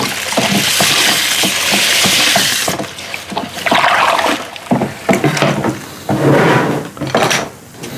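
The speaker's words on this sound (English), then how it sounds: "we want to stir in our 7 pounds, 7 pounds of the cracked corn" Cracked corn, seven pounds of it, being stirred into a sour mash whiskey starter, with repeated scraping and sloshing strokes through thick wet grain, close and fairly loud, uneven in rhythm with brief pauses between strokes.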